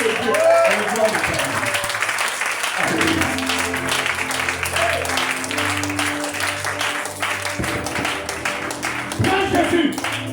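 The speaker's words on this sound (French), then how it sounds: "Est-ce que tu peux acclamer le Seigneur de Dieu?" Congregation at a French-language church service applauds and cheers loudly, dense sustained clapping mixed with shouts and voices, with music underneath throughout.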